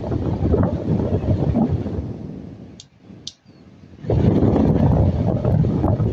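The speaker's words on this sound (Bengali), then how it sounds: "আশা করি বাতাসের শব্দ বুঝতে পারতেছেন আপনারা।" A homemade 12-volt solar-powered fan blows air with a steady, close, rushing whoosh. It dips briefly near the middle, then returns at full strength.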